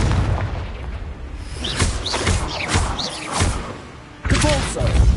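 The Confringo fire blast spell in Hogwarts Legacy, heard as sharp booming impacts that burst out in quick succession amid other spell effects and game sounds.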